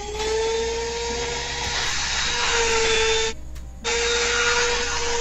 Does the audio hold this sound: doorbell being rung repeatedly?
no